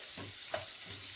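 Garlic and onion fry in a hot pan with a steady, close sizzle and soft stirring scrapes, with no voices.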